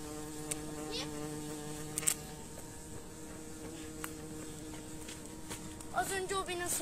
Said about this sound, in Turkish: Ama ilk defa böyle güzel bir arı gördüm.